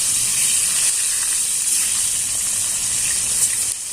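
Pieces of pangas fish are dropped into hot oil for a Bengali fish curry and fry with a loud, steady, close hiss and sizzle that holds throughout before dropping slightly at the end.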